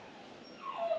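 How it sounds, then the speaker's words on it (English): A small dog whimpers and whines, the high thin cries growing louder toward the end. "You can hear my new puppy, Oakley."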